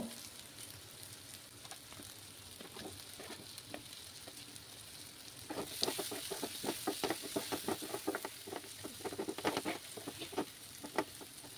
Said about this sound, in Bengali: আলুর সঙ্গে মশলাগুলো আবার কষিয়ে নেব।